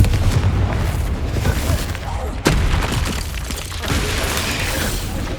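A Confringo blasting spell goes off in Hogwarts Legacy as a loud, booming explosion with a sharp crack partway through, over sustained rumbling game noise.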